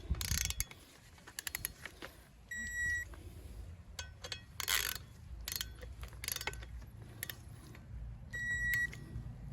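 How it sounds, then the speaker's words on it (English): A ratchet wrench clicks in short bursts while bolts are torqued to 20 foot-pounds during an AWD K-series Integra build, the quick pawl clicks separated by pauses, with a couple of faint electronic beeps from a torque tool and no speech. "Now you want to torque everything down 20 foot-pounds."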